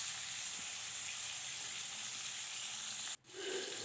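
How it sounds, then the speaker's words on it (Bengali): Sarpunti fish frying in oil, a steady soft hiss of sizzling that drops out briefly near the end before resuming. "এবার মাছগুলো একে একে দিয়ে আমি ভাজা করে নেব।"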